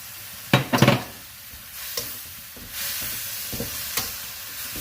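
Spring greens stir-frying in a hot pan for a pork belly stir fry give off a steady loud sizzle, with a burst of scraping, tossing sounds early on and a few more stirring knocks later.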